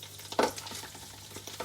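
Garlic sautéing in melted butter in a pan for butter garlic shrimp: a steady close sizzle with light stirring scrapes and one brief louder crackle near the start, no voices.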